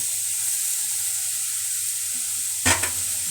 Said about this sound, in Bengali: গাজরটা দু তিন মিনিট ভাজা ভাজা হয়ে গেলে তার মধ্যে ওই যে এক কাপ চিনিটা আমি দিয়ে দিলাম